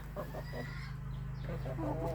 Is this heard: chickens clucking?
yes